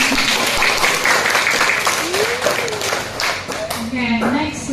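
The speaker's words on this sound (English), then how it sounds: "Can you give applause?" Audience applause at a guest lecture on fruit plant flowering, steady clapping from a crowd lasting throughout, fairly loud, with some voices and a rising tone briefly heard over it.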